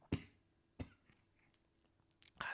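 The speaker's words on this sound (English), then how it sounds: "This cough is terrible." A podcast host with a bad cough in a quiet room gives three short, sharp coughs, two close together near the start and one after a pause, faint and close to the microphone.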